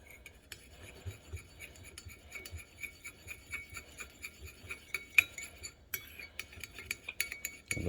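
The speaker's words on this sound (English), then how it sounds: "I'm gonna give this a good stir." Spoon or spatula stirring Asian-style boneless ribs with sesame oil in a pan, a steady run of light scraping clinks repeating at an even rhythm, close and clear with no talking.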